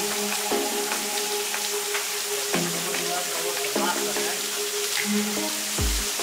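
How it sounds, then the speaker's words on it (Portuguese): A waterfall on a rural property, the fourth of several, gives a steady close rushing hiss that runs the whole time, with some faint voices and tonal sounds over it. "E a quarta cachoeira."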